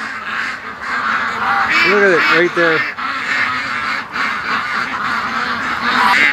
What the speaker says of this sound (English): All the little wild ducks inside the pen